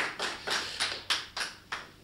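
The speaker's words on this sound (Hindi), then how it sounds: "एक बार तालियां बजाएं उनके लिए, इस बात के लिए।" A few distinct, sharp hand claps at a Hindi kavi sammelan poetry gathering, spaced in a loose, uneven rhythm and fairly faint, with no talk over them.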